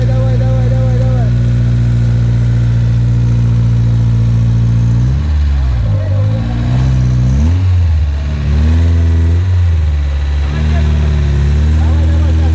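An off-road car climbing out of a ravine, its engine loud and close, idling steadily before revving hard in repeated surges as it strains upward, with people talking excitedly over it.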